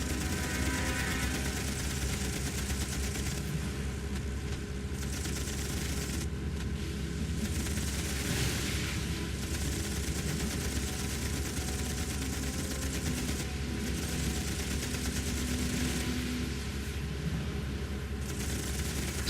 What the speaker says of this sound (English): Coming under enemy fire.